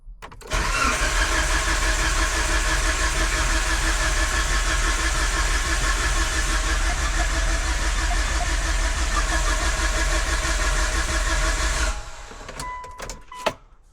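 A Mitsubishi Evo engine cranks continuously for about eleven seconds without catching, a loud rhythmic starter churn that stops abruptly, followed by quiet clicks.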